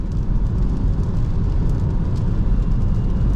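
A Renault Megane E-Tech EV60 electric car from 2023 accelerating on a road at night, a steady loud broadband rush of road and wind noise with no voices.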